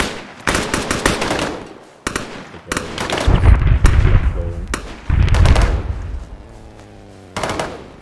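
Loud bursts of automatic gunfire and heavy impacts fill an Arma 3 firefight, with long rattling volleys broken by brief gaps and deep booming blasts underneath.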